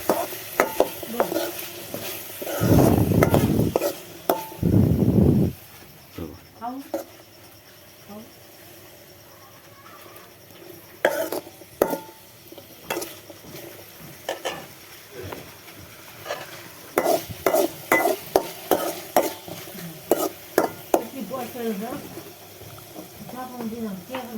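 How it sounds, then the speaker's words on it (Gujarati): Puris fry in hot oil in a village kitchen, a low crackling sizzle with clattering of utensils, loud handling noise early on, and a voice talking over the cooking. "નાખી દીધો પૂડીઓ તેલમાં બધું શેકાવા દેવાનું"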